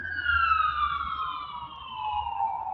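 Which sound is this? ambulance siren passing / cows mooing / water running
ambulance siren passing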